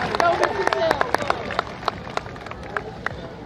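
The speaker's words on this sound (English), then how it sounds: "Can we give her a nice round of applause, please?" Scattered clapping rises from a high school graduation commencement crowd, with individual sharp claps standing out over a general murmur and the clapping thinning out toward the end.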